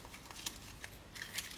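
A tarot card is turned over and handled, a few quick, faint papery flicks and slides close by in an otherwise quiet moment.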